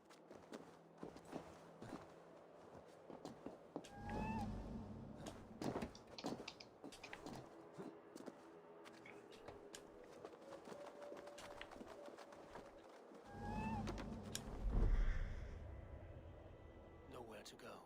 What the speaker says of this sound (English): I got cat footsteps.